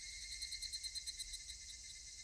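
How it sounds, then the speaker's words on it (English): Higurashi cicadas chirp in the Higurashi video game, a dense, steady, high-pitched shrill with a fast pulsing rhythm. The sound is faint and continuous, with no speech. "That was the sound of the chirping Higurashi telling me it was evening"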